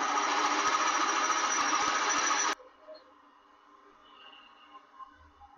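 Machine drilling to open up holes in a large Myford fixed steady, a loud steady whirring cut that runs for about two and a half seconds and then stops abruptly, leaving faint workshop background.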